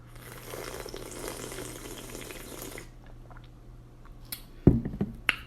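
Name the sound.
slurping alkaline water from a full glass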